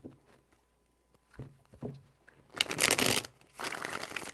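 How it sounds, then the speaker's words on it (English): Tarot cards are shuffled in a few short, crisp riffling bursts close to the listener, with quieter handling taps before them and no talking. "3 shuffles."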